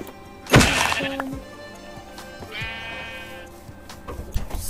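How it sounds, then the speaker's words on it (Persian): A sheep bleats in Minecraft during a hardcore survival game: a loud thump comes first, then a single wavering bleat a couple of seconds later, close and clear against faint game ambience. "یه گوسفند"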